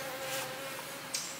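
Steady, close buzzing of honeybees in a hive that drones continuously at an even pitch, with no voices.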